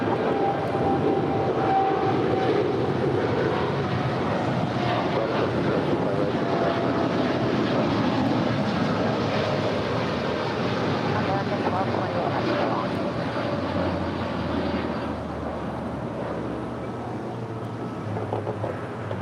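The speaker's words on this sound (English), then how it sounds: "1228 Heavy departing to Miami. It's a 787-8 Dreamliner." An American Airlines Boeing 787-8 Dreamliner departs LAX, a continuous engine rumble with wind noise over the microphone that stays steady, then eases slightly in the final seconds.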